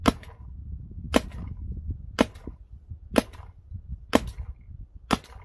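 An Ultra Shocker paintball marker fires six sharp, evenly spaced shots about one second apart, each a crisp loud crack standing out over low background rumble.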